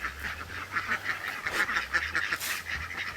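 Young ducks climbing out of the water, giving repeated nasal quacks and honking calls, fairly close and overlapping in a busy, uneven rhythm over low background rumble.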